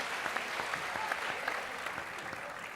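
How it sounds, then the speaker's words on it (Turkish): A studio audience at a Turkish Popstar singing competition applauds in tribute to a late lyricist, a soft, even wash of many hands clapping at moderate distance, continuous throughout. "Ona da bir alkış gönderelim"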